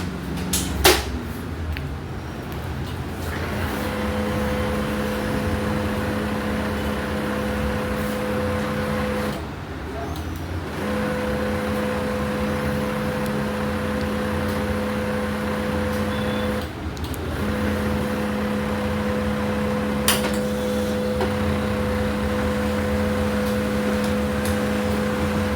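An HP printer fitted with a new cartridge runs a test page: a steady mechanical whir with sustained motor tones, broken by short pauses and soft clicks as the paper feeds, continuing for a long stretch.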